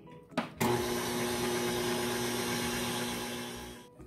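An electric mixer starts with a couple of knocks and then whirs steadily at close range, kneading bread dough for a garlic mozzarella bread.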